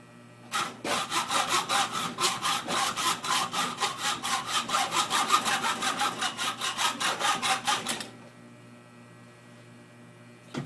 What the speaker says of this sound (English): Need your hacksaw. We got a Stanley Fat Max,